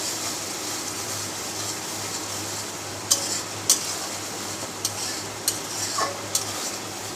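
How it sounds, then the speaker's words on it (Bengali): Spice paste for a chicken kala bhuna is sautéed in a pan, a steady quiet hiss of frying broken by a handful of sharp metallic clicks of the spoon against the pan; nobody talks. "এবার মশলাটা ভালোভাবে কষিয়ে নেব।"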